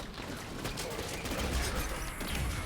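Continuous rapid gunfire rattles in Halo 5: Guardians co-op combat, a dense, loud burst of shots with mechanical clatter, with talk mixed in underneath.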